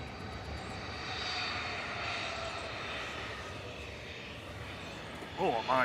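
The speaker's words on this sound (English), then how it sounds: "EasyJet departing their GUZHG heading to the Isle of Man. That's an A320 Neo" An easyJet Airbus A320neo departs Manchester for the Isle of Man, a moderate, steady jet roar heard at a distance, then a sudden burst of close sounds right at the end.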